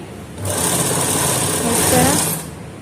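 A sewing machine runs steadily for about two seconds, stitching a facing strip around a round neckline, its motor whirring loud and close, starting and stopping abruptly.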